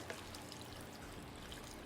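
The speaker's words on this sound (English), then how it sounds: "Add some hot water." Hot water pours onto coleslaw mix and frozen corn in a faint, steady stream, with no voices over it.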